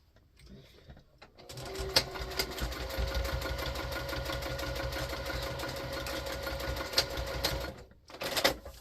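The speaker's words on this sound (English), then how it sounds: "I'm going to stitch it on 1/4 of an inch" A sewing machine stitching fabric a quarter inch from the edge for a fabric basket, a steady close mechanical whir running continuously for several seconds after a quiet start, ending with a brief burst.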